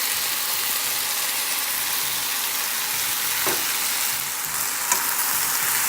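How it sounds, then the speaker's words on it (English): Vegan pulled pork mixed with barbecue sauce sizzles steadily in a pan, a close, continuous frying hiss with a couple of faint stirring clinks. "you are going to let your pulled pork mixture cook down on medium heat for 2 minutes"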